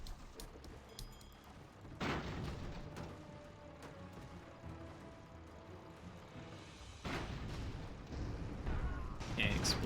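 Airship explosions and cannon fire in the game Airships: Conquer the Skies: a dense, continuous rumble of blasts with sharp booms near two and seven seconds, while someone talks over it.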